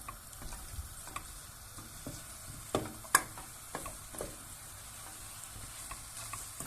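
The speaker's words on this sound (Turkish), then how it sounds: "Bir dakika kadar da bu şekilde kavuracağım kabağımı." Soft sizzling and frying of chopped zucchini in a pan, with light scraping and stirring taps now and then, fairly quiet and steady throughout.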